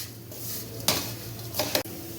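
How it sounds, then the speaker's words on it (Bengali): Semai vermicelli being stirred as it fries slowly in a pan for a Nawabi semai dessert, a soft continuous sizzle broken by two or three quick scraping clatters of a utensil against the pan. "এটাকে আমি এখন ভালো করে আবার নাড়াবো"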